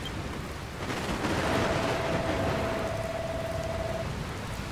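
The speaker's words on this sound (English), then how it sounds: "Looks like there's another storm rolling in." Steady rain falls during a gathering storm in Dragon Quest Builders 2, a dense, even hiss that swells slightly in the middle, with no distinct thunderclap and no voices.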